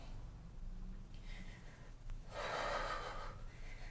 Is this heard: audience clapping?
no